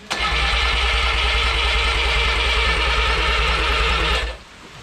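An original Renault 4CV engine, unstarted for about seventy years, cranks and catches at once, then runs loud and steady with a rough, throbbing idle for about four seconds before cutting off abruptly.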